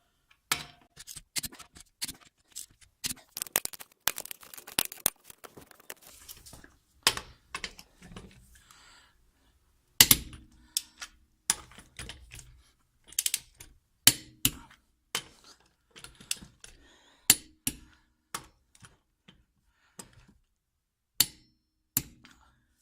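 A torque wrench clicks on the lug nuts of a Honda Insight wheel, sharp isolated clicks in irregular bursts with quiet gaps between them, close and clear with no talk.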